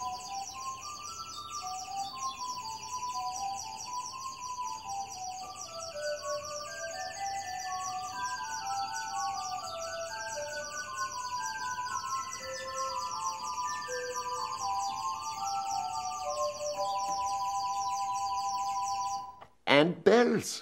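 A pipe organ stop imitates a bird with a steady run of high chirping, warbling tones over sustained organ notes, continuing for about twenty seconds at an even level before a brief louder burst at the end.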